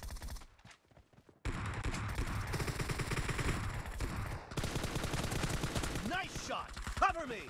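Automatic weapon fire in PUBG Mobile Domination mode: after a quiet start, a loud, rapid stream of close shots runs for several seconds, then a voice speaks over fainter shooting at the end.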